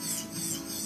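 An electric nail drill buzzes as it files a client's nail, a steady close grinding hum with a rasping edge that lasts under a second.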